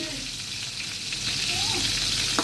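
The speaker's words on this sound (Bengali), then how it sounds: "এখন ইলিশ মাছের ভাজি করতেছি" Hilsa fish sizzles as it fries in oil in a pan, a steady close crackle with faint spatters and a few stirring clicks.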